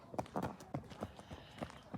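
Hooves of a horse clip-clopping at a walking pace as it is led toward a field, a steady sequence of distinct knocks fairly close by, with faint voices in the background.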